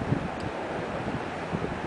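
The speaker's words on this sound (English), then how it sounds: "Wind speed probably in the 20s." Gusty wind of roughly 20s mph blows past a homemade six-blade wind turbine, a faint steady rushing noise with slight surges and no clear blade sound standing out.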